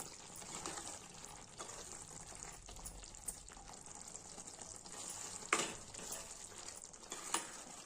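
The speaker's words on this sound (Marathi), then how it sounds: "थोडंसं परतून घेऊ याला छान." Brinjal pieces stir-fried in oil in a pan for a Marathi vegetable dish give a steady moderate sizzle, with a few sharper spatula scrapes and clinks throughout.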